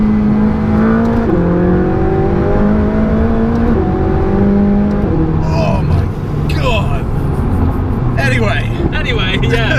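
A stock McLaren 675LT revs up and down repeatedly, engine pitch climbing and falling in steps, with crisp pops and bangs from the exhaust near the end. Someone talks over the loud, close engine.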